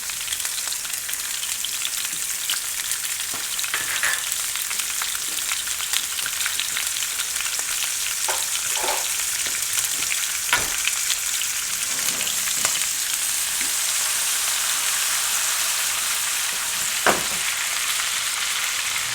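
Butter sizzling and crackling steadily in a hot pan with lamb chops, a dense continuous frying hiss with occasional sharper pops and light stirring clicks, close and even throughout, no voices.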